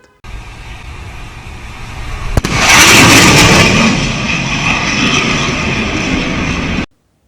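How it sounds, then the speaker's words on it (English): A fighter plane crossing the speed barrier roars past; a low rumble builds, then a sharp crack triggers a loud, broad blast that holds for several seconds before cutting off abruptly. "As the fighter plane crossed the speed barrier, it led to a sonic boom, which was extremely intense sound."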